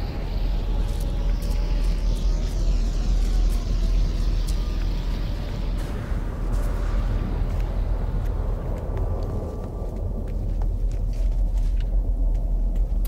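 A steady, roaring storm rumbles continuously in the video game No Man's Sky, a dense low wind-like roar with crackling, hissing bursts layered on top throughout.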